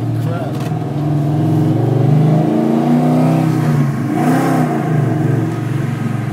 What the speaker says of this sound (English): Doing about 70 miles an hour around this turn.